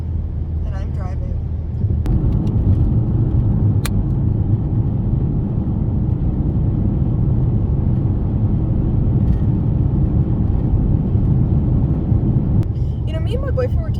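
A car hums along from inside the cabin, a steady low engine and road rumble running throughout under continuous talking.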